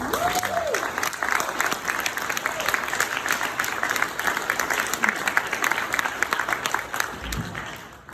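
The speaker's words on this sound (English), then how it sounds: "please join me in a round of applause for this new federal holiday, the Juneteenth celebration." A round of audience applause at a Juneteenth celebration speech, steady crowd clapping lasting several seconds with a voice briefly heard at the start and occasional cheers, tapering near the end.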